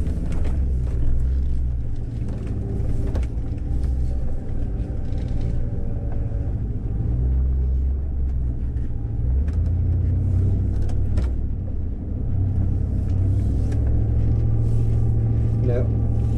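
A Range Rover P38A crawls slowly off-road, its engine a steady low rumble with bumps and creaks from the terrain, while someone talks over it throughout.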